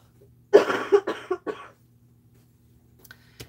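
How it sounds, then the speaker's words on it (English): A close burst of several harsh coughs in quick succession from someone with a bad cough, followed by near silence and a faint final cough. "I got a cough"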